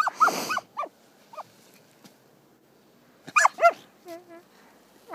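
An Australian Shepherd puppy in the snow gives several high, thin whimpers and short yips in two clusters, close by, with quiet pauses between them.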